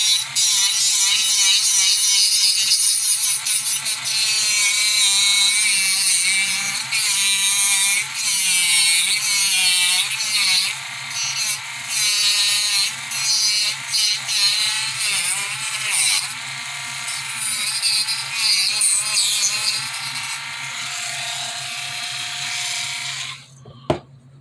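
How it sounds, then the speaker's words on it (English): Dremel rotary tool grinding the bodywork of a Mazda RX-7 build, a high whining buzz that rises and falls in pitch as it bites, close and sustained, ending with a sharp catch. "so we'll just do it the old Dremel way."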